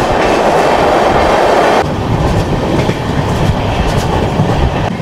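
The Sairang to New Delhi Rajdhani Express runs along the tracks in Mizoram, a loud, close, continuous rumble of wheels and carriage noise with a steady rattling texture throughout.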